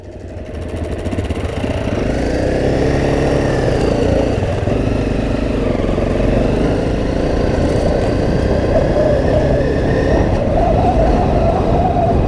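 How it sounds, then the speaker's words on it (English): Motorbike coming down a rough dirt track at a rally-style ride, its engine droning loud and close for the whole stretch with a shifting, revving pitch and no talking. "Oh, look out, this bike's coming down."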